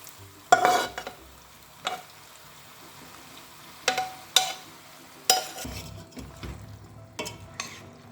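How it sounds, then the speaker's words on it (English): Fava beans are tipped into a pot of cooking pasta, giving several short bursts of rattling and clattering against the pot with quieter stirring and bubbling between, close and without talk. "Now we're gonna let the pasta cook. And we're going to add our fava beans."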